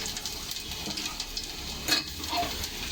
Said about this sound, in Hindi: पहले मैं तेल में डालूंगी लहसुन।